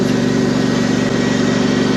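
A tractor engine idles close by with a loud, steady, even chugging drone that holds without change and has no talk over it.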